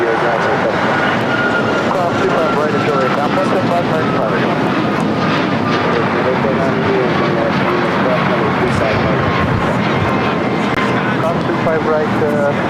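An Alaska Airlines Boeing 737 MAX 9 roars steadily during takeoff from the south side of LAX, a loud, continuous broadband jet rumble with a faint voice under it.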